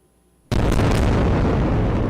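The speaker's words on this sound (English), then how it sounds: "Explosions shaking Gaza in the early morning" Silence broken by a sudden loud blast of an explosion in Gaza in the early morning, followed by a heavy rumbling roar that stays loud to the end.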